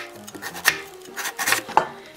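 A knife julienning radish on a cutting board, producing a quick series of light, close chopping taps, several in under two seconds, crisp and fairly loud with no voices.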